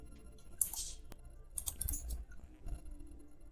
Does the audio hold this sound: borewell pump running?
no